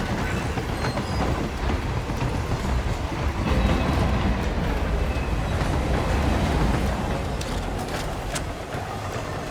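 A train rolls steadily along in the Hitman video game, a dense, continuous rumble of wheels and carriage noise with faint clicking over the rails, fairly loud and without any talk throughout.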